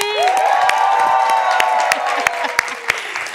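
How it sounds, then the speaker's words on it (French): A studio audience bursts into an ovation, loud close applause and cheering with whoops and shouts rising over a sustained voice, sharp claps punctuating throughout. "Est-ce qu'on peut faire un bruit d'ovation pour la réalisation pour nous aujourd'hui?"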